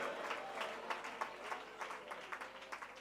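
A church congregation claps hands in praise of God, faint and somewhat distant, the many hands falling into a loose rhythmic pulse of repeated beats that runs throughout.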